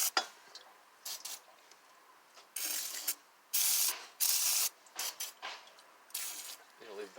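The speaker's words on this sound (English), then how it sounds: "Penetrating oil to make life a little easier." Penetrating oil is sprayed onto a mechanism in several short hissing bursts of varied length, separated by quiet gaps and small metallic clicks and handling noises.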